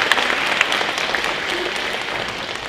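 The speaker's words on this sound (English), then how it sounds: "So let's give them a round of applause" Audience applause fills a school gym at a student-run women's empowerment event, a steady wash of clapping from a sizable crowd held at even loudness throughout.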